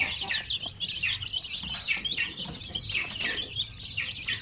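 A mother hen clucks steadily and close by among a brood of native Sampen chicks, with continuous high chirping and peeping from the chicks over low murmuring.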